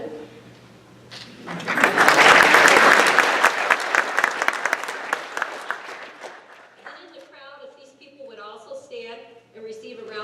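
Banquet audience at an FFA gathering breaks into applause that swells quickly, stays loud for several seconds, then tapers off as a voice begins speaking over the room.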